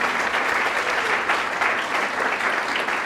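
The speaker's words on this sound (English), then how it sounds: "So can I have a big round of applause to all these folks?" Audience applause at a women's business expo, steady dense clapping that fills the whole stretch at an even, loud level with no voices over it.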